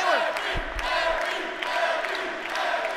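Wrestling crowd at a triple threat match cheering and shouting, a steady wash of voices with whoops and a few thuds, heard at moderate volume.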